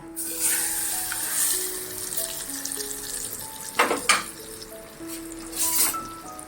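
Spices for tempering sizzle in hot oil with bursts of loud crackling and spitting, over a soft melody in the background; then dal is added.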